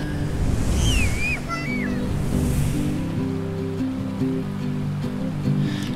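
Ocean surf breaking on a beach in Tasmania, a steady broad wash of waves rolling in close by, with birdsong chirping over it and people talking quietly now and then.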